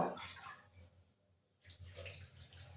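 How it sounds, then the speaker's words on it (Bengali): Water is poured into a pot of cauliflower curry, a soft splashing pour that stops and then starts again, heard close and fairly quiet, with no talk. "এবার জল দিয়ে দেবো আরও খানিকটা জল লাগবে কপি অনেকটা তো"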